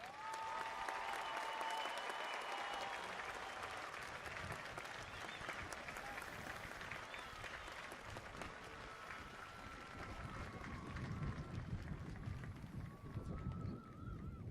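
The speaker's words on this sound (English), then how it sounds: "show them your love and support right now with a round of applause and acknowledgement" Audience at a high school commencement ceremony for the class of 2023 applauding graduates, a dense, steady wash of clapping from a large crowd that stays loud throughout, with some voices mixed in.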